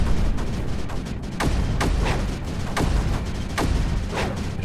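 Mortars firing in the Creeper World 4 video game: a steady series of sharp booming thumps, about six in under five seconds, over a continuous low rumble, no talking.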